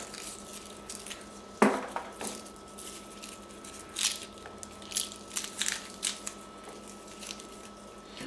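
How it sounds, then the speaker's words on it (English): Garlic cloves being peeled and chopped by hand for homemade garlic butter, a sharp crunch followed by scattered knife taps and crackly peeling sounds at close range, no voices. "Next you want to peel and chop the garlic."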